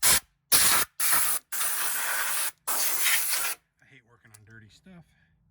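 Compressed air blasts out dirt in a series of loud hissing spray bursts, four short ones then a longer sustained blast, followed by a voice speaking quietly.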